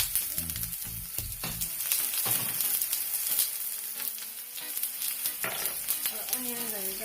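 Onions and garlic hit hot oil in a pan for Jamaican tin mackerel, giving a loud, continuous sizzle with a few stirring scrapes and knocks up close, and no one talking.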